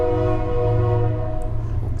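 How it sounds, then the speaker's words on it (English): Trains roll past outdoors near an acrylic paint pour on huge canvases, a steady low rumble with a sustained tonal horn held throughout, loud and continuous. "excuse the trains passing by"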